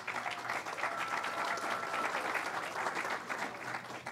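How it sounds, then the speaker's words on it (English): A room of people applauding city council members, steady sustained clapping at moderate distance with no break in the rhythm. "if you could all stand up so we can applaud, that would be great"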